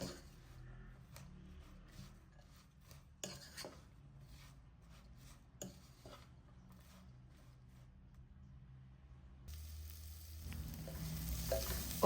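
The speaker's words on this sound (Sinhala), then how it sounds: "දැන් මේකට තෙල් ටිකක් එකතු කරලා මේ විදිහට හොඳට කලවම් කරලා පියනකින් වහලා අඩු ගින්දරේ මේක ටික වෙලාවක් උයා ගන්න ඕන" Oil and beetroot curry being stirred in a pan, with scraping spoon strokes and a soft sizzle throughout, the frying growing louder and more continuous near the end.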